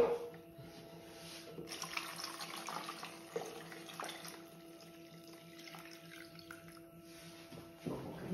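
Tap water runs steadily into a container while cooking foie gras, a continuous splashing stream with faint clinks and drips, heard alone without talk.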